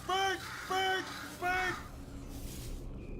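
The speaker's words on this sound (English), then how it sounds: "that's probably the bird in it that laid the eggs" A bird in the Portal 2 game caws three times in quick succession, each call loud and harsh, followed by a quieter, murky tail.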